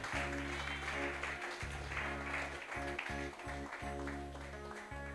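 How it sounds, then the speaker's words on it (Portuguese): A congregation claps during a sermon while sustained organ or keyboard chords play loudly underneath, the applause forming a busy, moderately faint patter over the music. "Alguém pode aplaudir a Jesus aqui?"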